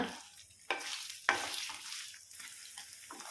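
Paneer pieces fry in hot homemade ghee with a soft, steady sizzle, broken by two sharp clanks of a utensil against the pan, close and moderately quiet with no talking.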